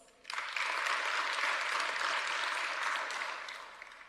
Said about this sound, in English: very strong round of applause